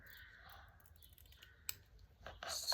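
Scissors snip open the plastic package of a squishy dumpling toy, a few close clicks and crisp cuts at a quiet indoor unboxing, ending in a louder rustle of plastic.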